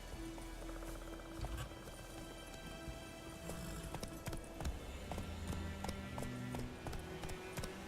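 Rapid hoofbeats clop steadily as a horse gallops in The Witcher 3, with scattered game sounds and faint music underneath.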